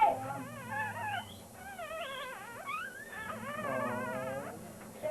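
A small orange and whitish-beige puppy whimpers and whines in high, wavering cries, close and fairly loud, continuing steadily with no talk over it.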